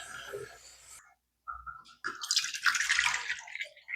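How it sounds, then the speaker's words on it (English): Tap water runs over rice being rinsed until the water runs clear. A short trickle stops briefly, then a steady, bright gush of running and splashing water returns close by. "And until the water starts running clear."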